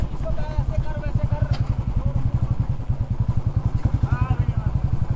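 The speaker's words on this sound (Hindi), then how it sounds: "बाइक कहाँ तक जाएगी।" A motorbike engine thumps with a steady, rapid pulse close to the microphone during a ride toward a mountain temple, and voices speak briefly over it.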